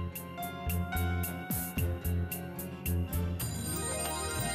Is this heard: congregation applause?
no